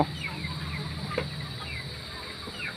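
Laying hens cluck and murmur in a steady, moderately loud flock chorus with scattered short calls over a constant low farmyard hum, and no voices.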